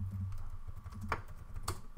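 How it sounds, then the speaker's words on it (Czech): Fast, fairly quiet typing rattles on a computer keyboard, with a couple of sharper clicks that stand out from the steady patter. "Slyším, že tam něco klikáš totiž."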